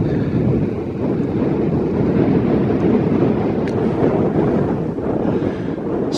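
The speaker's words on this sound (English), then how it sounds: "sorry about the wind" Strong wind buffets a microphone on an exposed hilltop near West Woods, a loud, continuous low roar with gusty swells and no break.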